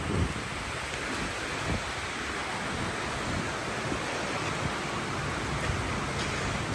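Steady rain at Sydney Central Station during its major upgrade, a continuous broadband hiss of falling water with no talk, fairly even in loudness throughout.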